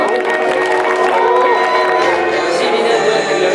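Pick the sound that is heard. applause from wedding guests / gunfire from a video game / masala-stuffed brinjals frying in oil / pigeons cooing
applause from wedding guests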